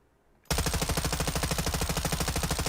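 Light machine gun in Modern Warfare 2 fires one sustained full-auto burst at a firing range, loud and rapid with an even rhythm, starting abruptly after a brief quiet lead-in.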